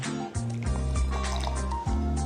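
Coconut milk pours and glugs into a container for a puree, with wet liquid splashes and a few bubbly dribbles in short bursts, close and fairly clear over about two seconds, no talking.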